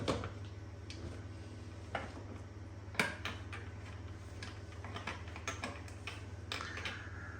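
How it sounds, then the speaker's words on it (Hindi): Sharp metallic clicks and clanks of a pressure cooker lid being fitted and locked shut, scattered knocks over a constant low hum, no talking. "कुकर को बंद किया जा रहा है"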